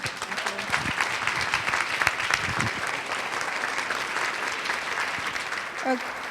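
A gala audience gives a final round of applause to a group of award nominees, a steady crackle of many clapping hands that carries on at even strength, with a few voices briefly poking through.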